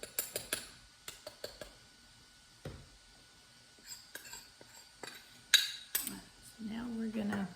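A metal utensil clinks against a container while mixing an egg water glassing solution for preserving eggs, giving sharp, scattered taps in irregular bursts, followed by a short stretch of stirring noise near the end.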